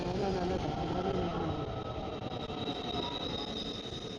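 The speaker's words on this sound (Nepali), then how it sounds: "यो चाहिँ हाम्रो ट्रेन आयो गाइस।" A train pulls into a station platform in South Korea, its steady rumble and rolling wagon noise continuous and fairly loud throughout, with faint murmurs in the background.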